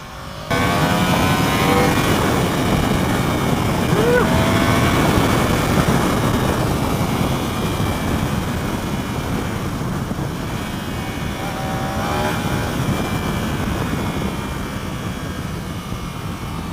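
A 2016 Yamaha motorcycle roars at sustained high throttle, a loud, steady engine and wind rush heard from onboard with small pitch shifts, continuous throughout.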